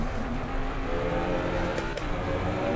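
Race car with a Jaguar engine and Bentley gearbox in Assetto Corsa Competizione, a steady loud engine drone held throughout with a brief higher whine near the end.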